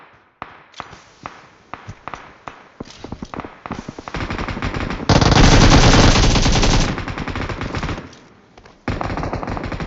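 PUBG Mobile gunfire comes first as spaced single shots, then quickens into rapid bursts and a dense sustained automatic stream before tapering and resuming, loud and close.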